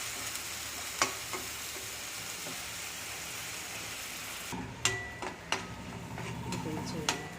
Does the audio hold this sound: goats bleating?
no